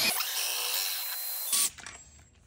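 A power tool fitted with a 1 1/8 socket lowers a car's scissor jack. Its high whirring drone runs steadily for about a second and a half, then cuts off, leaving faint clunks and rattles.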